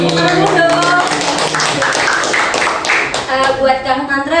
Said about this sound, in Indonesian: Tepuk dong.